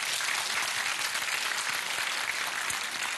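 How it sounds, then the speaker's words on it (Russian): Studio audience applause on a television talk show, dense and steady clapping from many people that stays loud and even from start to finish. "И тебе вот эти аплодисменты нашей студии."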